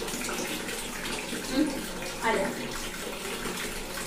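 Water runs steadily into a tub for bathing a baby, a constant close gush with a brief voice calling over it.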